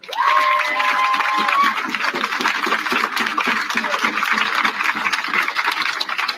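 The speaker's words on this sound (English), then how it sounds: "Give yourself a round of applause." Crowd at a street protest for George Floyd in New York cheering and applauding, a loud sustained roar with whistles and shouts, steady and dense throughout.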